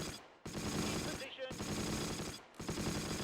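Bursts of machine-gun and rifle fire from the Close Combat war game, loud and rapid, broken by two brief pauses.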